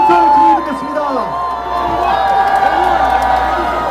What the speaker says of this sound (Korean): 여러분, 뜨거운 함성과 박수로 연설 드리겠습니다